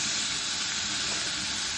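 Drained canned chickpeas are rinsed under running water, a steady, close hiss of flowing water with no break.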